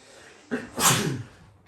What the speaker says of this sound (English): Excuse me for my sneezing.